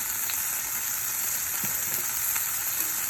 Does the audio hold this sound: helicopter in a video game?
no